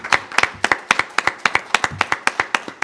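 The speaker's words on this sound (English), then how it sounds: "Join me in giving the speakers one more round of applause." Audience clapping for the speakers at the close of a tech ethics panel discussion, a steady run of sharp, closely spaced claps from a small crowd, fairly near and clear with no talk over it.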